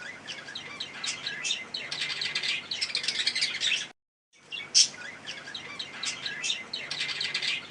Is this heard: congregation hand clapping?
no